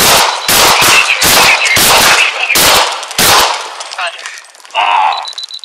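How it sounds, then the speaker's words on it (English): Police beanbag shotgun fire during a standoff with a knife-wielding man: a rapid burst of six loud, sharp shots in the first three and a half seconds, followed by quieter clatter and a brief shout. "I got shots fired"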